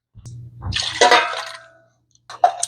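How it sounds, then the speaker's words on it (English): Water from a can splashes into condensed tomato soup in a pot: a short gurgling pour that swells and fades out, then a brief second splash after a pause. "we're going to add a can of water"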